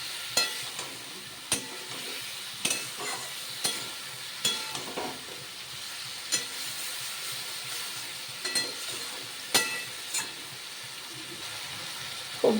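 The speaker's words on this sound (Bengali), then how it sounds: "এবার খুব ভালো করে কষিয়ে নেব, যতক্ষণ না মশলা থেকে তেল বের হয়ে আসছে" Soaked spice paste fries in oil for a light Bengali fish curry, giving a low, continuous sizzle under regular sharp clicks of a spatula scraping and stirring the pan.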